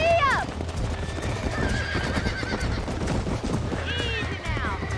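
Horse neighing and whinnying with clip-clop hoofbeats in the Western video game Red Dead Redemption; a loud whinny opens, steady galloping hooves run throughout, and another whinny comes near the end, with a voice speaking over it.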